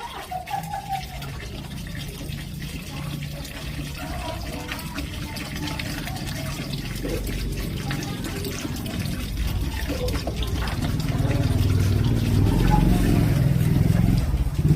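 Water runs steadily into a cooking pot while paksiw is prepared. The pouring swells louder and fuller toward the end, with voices talking nearby over it.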